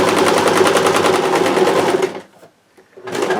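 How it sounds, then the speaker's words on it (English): A sewing machine stitches dark and light fabric strips together for a four patch quilt, a loud rapid chattering run that stops briefly, then starts up again, heard up close. "I'm going to start sewing these and these together"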